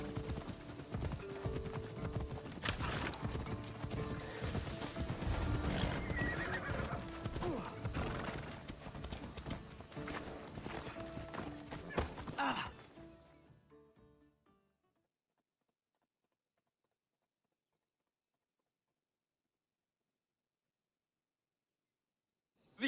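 A horse in Assassin's Creed Odyssey neighs and whinnies amid rhythmic clip-clop hoofbeats, loud and busy for several seconds, then fading out to silence.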